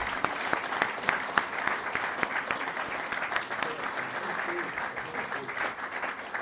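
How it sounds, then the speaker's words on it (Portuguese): An audience at an institution's 143rd anniversary celebration breaks into sustained applause, a dense, steady patter of many hands clapping for several seconds in a room. "se quiserem bater palmas"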